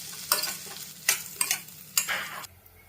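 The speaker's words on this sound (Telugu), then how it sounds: "మధ్యలో మాడిపోకుండా కలుపుకోవాలండి" A spoon stirs garlic and bitter gourd pieces frying in a pan, four scraping, rustling strokes over a continuous low sizzle, ending abruptly with only a quiet background hum.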